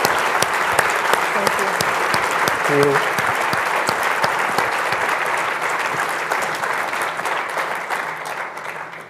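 An audience gives sustained, dense applause for the California Chief Justice, a steady wash of clapping that tapers off toward the end, with a brief spoken thanks partway through.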